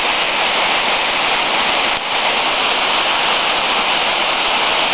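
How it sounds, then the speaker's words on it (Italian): Fermona waterfall at Ferrera di Varese, the tallest drop in the area, roars as a loud, steady wash of falling water that fills the whole scene without pause, with no voices over it. "Ecco, vedete la cascata."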